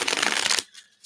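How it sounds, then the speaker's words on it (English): A quick riffling flutter of cards being shuffled, close up, ending abruptly and followed by a soft tap. "let's give these a couple shuffles"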